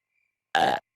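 A cartoon dog lets out a single short, loud burp that breaks a moment of silence.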